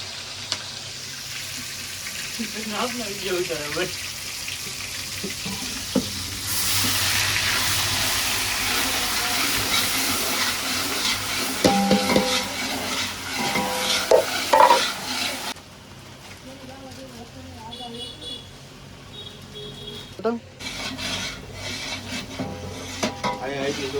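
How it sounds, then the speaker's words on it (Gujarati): Food fries and tempering spices sizzle in a pan during a Gujarati home cooking gathering. The continuous crackling hiss swells louder partway through, then drops back, with utensil scrapes and occasional voices in the background. "તરવાનું વઘારવાનું ચાલુ થઈ ગયું છે"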